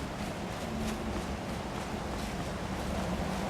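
Rushing waterfall in Skyrim, a dense, constant roar of falling water that stays loud and unbroken throughout with no voices.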